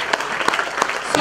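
A church congregation at a city prayer gathering in Kudus, Central Java, cheers and applauds in bursts of clapping, with voices mixed in throughout.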